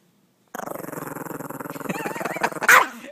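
Small dog growling steadily then breaking into sharp yips and barks, close and loud, with the snarl building toward a final burst.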